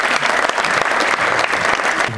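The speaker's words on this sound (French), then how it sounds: "On peut vous applaudir." A seated audience at a French business award ceremony breaks into full, dense applause that holds steady and loud throughout.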